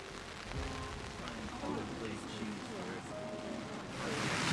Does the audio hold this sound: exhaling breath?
no